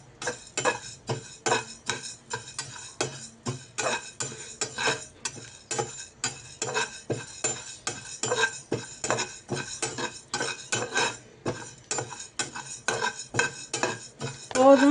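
A metal spoon scrapes and clatters against a hot pan while moong dal is stirred and dry-roasted, a brisk, irregular run of ticking strokes that carries on throughout with no talking.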